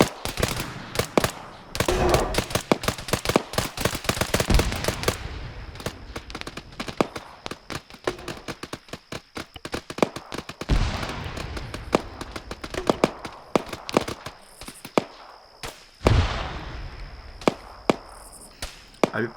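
Rapid bursts of automatic gunfire and scattered single shots crackle through an Arma 3 jungle ambush, dense and loud in stretches with brief lulls, the firing continuing in waves and sharp volleys near the end.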